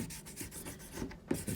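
Knife blade stropped on a leather strip glued to a board and loaded with green chrome buffing compound, soft rhythmic rubbing strokes, close and quiet, with no voices.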